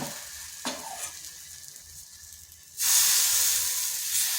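Batter hits a hot tawa slicked with a little oil and bursts into a loud, bright hiss. Quiet clinks of handling come first.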